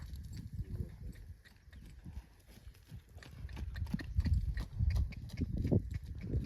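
Horse hooves clip-clop steadily on the ground during a training session at a rural village stable, a continuous rhythmic patter of close steps with some background noise and no talk.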